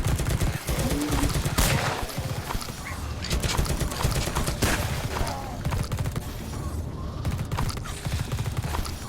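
Gunfire in The Red Solstice rattles in dense, loud bursts of rapid shots with mechanical clatter, continuing almost without break throughout the battle.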